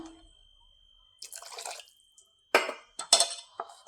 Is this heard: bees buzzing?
no